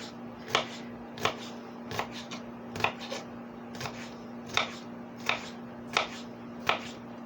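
A knife dices a jalapeno on a cutting board in a kitchen: steady, evenly spaced crisp chops, about ten in a row, close and fairly quiet over a low background hum.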